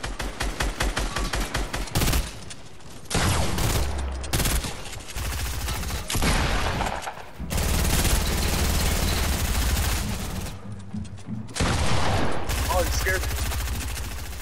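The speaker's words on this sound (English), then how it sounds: "Just shotgun him." In a squad battle video game, rapid strings of gunshots alternate with heavy single blasts, including shotgun fire, in loud close bursts separated by brief quieter gaps.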